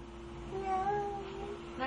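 A one-year-old child imitates a cat's meow, a short rising and falling vocal tone lasting about a second, close and moderately loud, with faint background sound.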